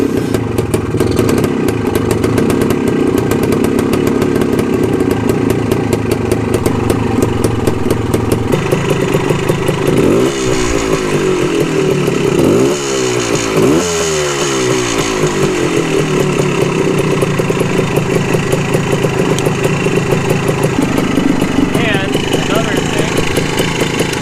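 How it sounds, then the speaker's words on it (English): A 1974 Honda MT250 motorcycle with a 6-volt system under restoration runs with a buzzy, close engine note. It idles steadily, with a few revving swells partway through. "So I'm gonna try and start up the bike and we'll see what happens."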